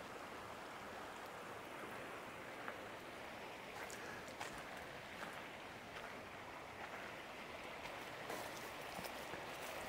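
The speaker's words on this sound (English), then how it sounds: "Nice babbling brook sound." Creekside babbling brook in the mountains in early April, a steady broadband wash of flowing water running continuously and fairly faint, with no voices over it.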